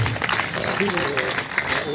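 Audience clapping at a district-level youth parliament event in a school, a steady patter of many hands with a voice talking over it.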